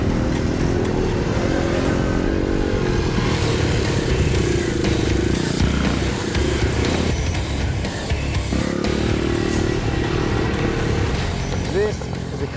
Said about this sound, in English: This is the kind of bike you need in this type of environment.